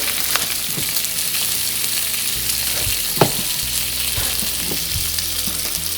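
Pieces of top round steak fry in a hot pan with a steady, continuous sizzle, sharp pops and crackles breaking out now and then, close and fairly loud with no talking.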